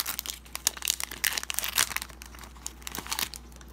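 The foil wrapper of a Zendikar Rising Magic: The Gathering booster pack is torn open with dense, close crinkling and crackling as it is pulled apart, with no talking.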